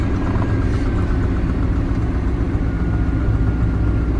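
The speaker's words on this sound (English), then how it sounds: "Hey, it's idling." A car engine idles steadily and close by, a loud, even rumble that holds with no clear revving. The car has a check engine light on and a smell like cigarette smoke.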